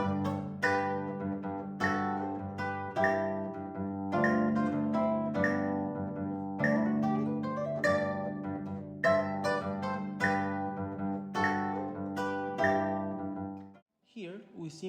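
Acoustic guitar plays a melody in thirds over a full bass line, slow and steady plucked notes ringing close for about fourteen seconds before fading to a brief soft sound at the end.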